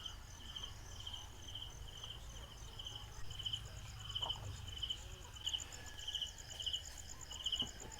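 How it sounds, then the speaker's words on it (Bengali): Crickets chirp at night in the Philippines in a steady, evenly pulsing trill, fairly faint against a low ambient hum, with occasional soft knocks and no speech. "ঝিঝি পোকার ডাকও শুনতে পাচ্ছি।"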